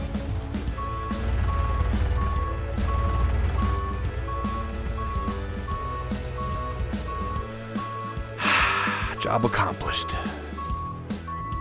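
Forklift reversing beeps from the VR game Best Forklift Operator pulse steadily at a regular rhythm over engine rumble and clatter, with someone talking throughout.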